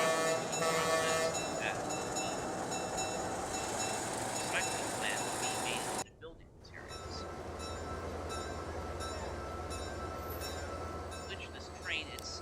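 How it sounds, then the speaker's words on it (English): A train in the Transport Fever 2 video game hums steadily for several seconds, then a low rumble rises after a brief cut, with faint whistles and clicks throughout, all running under a calm narrating voice. "this train itself is almost ready to depart"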